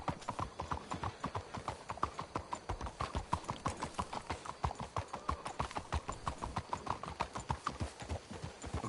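Steady, rhythmic clip-clop of horse hooves trotting in Red Dead Redemption 2, close and continuous, with no voices.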